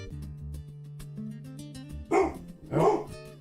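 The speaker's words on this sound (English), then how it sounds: "I'm gonna have to shut my dog up" A pet dog barks twice indoors, loud and close, over a steady low musical hum.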